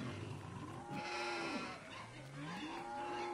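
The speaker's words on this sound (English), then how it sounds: "Lots of ambient sounds in here. We got some pigs, sheep together, cows." Farm animal ambience from Farming Simulator 19 with pigs, sheep and cows: a few drawn-out bleats and moo-like calls rise and bend in pitch over a quiet bed of background noise, with no voices.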